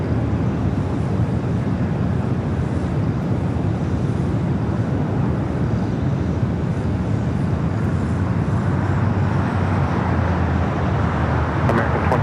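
A British Airways Speedbird airliner taxis at Los Angeles International Airport, heard as a steady, loud engine rumble and broadband roar that holds for the whole stretch.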